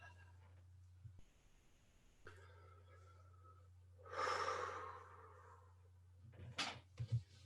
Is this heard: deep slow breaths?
yes